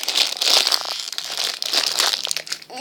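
Plastic blind bags holding small cartoon figures are torn open by hand, giving loud, close crinkling and tearing in quick repeated bursts with no talking.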